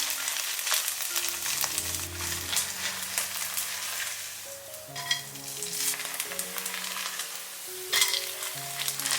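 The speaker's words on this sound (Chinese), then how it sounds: "调小火慢煎" Batter-coated Chaoshan radish cake slices fry slowly in a little oil over low heat, giving a steady, soft sizzle that runs throughout beneath quiet background music.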